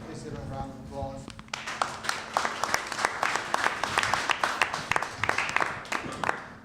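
A room of forum attendees gives a round of applause for the county homeowners coalition members, dense clapping building after a brief spoken introduction and carrying steadily to the end.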